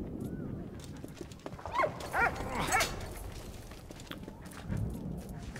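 A dog in the World War I game Valiant Hearts: The Great War, giving a few faint whimpering yelps over muffled footsteps and low background ambience, fairly distant.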